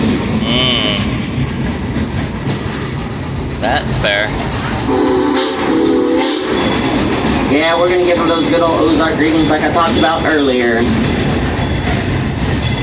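A steam train rolls past a railroad crossing, heard from aboard amid a loud, continuous rumble and rattle, with a bright horn or whistle blast in the middle and people talking over it.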